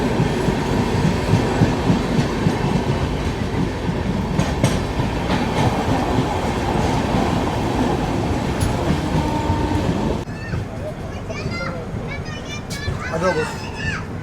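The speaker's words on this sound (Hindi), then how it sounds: "देख लो सिटी में एकदम घरों के जस्ट बगल से होके गाड़ी निकल रही है।" The Patna–Udaipur Humsafar Express rolls through a city right beside houses, a loud, close rumble with rhythmic clickety-clack of wheels that drops to a quieter rattle partway through, with faint voices around.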